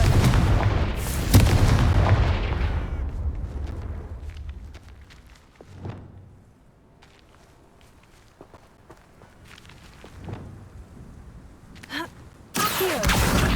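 A loud Confringo blasting spell bursts out in Hogwarts Legacy with a booming impact that decays over a few seconds, followed by quieter footsteps and scattered game effects before another sharp blast at the end.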